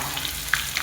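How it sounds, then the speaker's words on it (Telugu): Chopped onion and green chilli fry in hot oil, giving a brief, steady, close sizzle with faint crackles. "ఆయిల్ హీట్ ఎక్కింది. ఉల్లిపాయ పచ్చిమిర్చి ముక్కలు అయితే వేసేసుకున్నాము."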